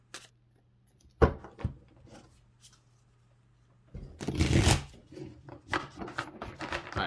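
Quiet riffling and slapping of tarot cards being shuffled in a few short bursts, one longer flurry in the middle, with near silence between.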